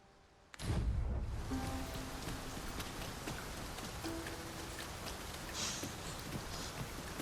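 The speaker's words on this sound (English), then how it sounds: "This downpour seems unlikely to abate." A sudden onset of heavy, steady rain in Dragon's Dogma 2 pours down and continues without letup, with a faint low rumble beneath.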